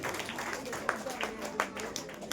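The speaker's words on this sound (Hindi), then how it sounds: "तालियां हो जाए" A scattered round of applause from a small crowd at a school prize-giving ceremony, individual claps standing out, with a voice speaking over it.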